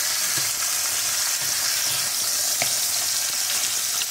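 A beef roulade sears in a pan with a constant, close sizzle and crackle throughout, punctuated by faint pops and no voices.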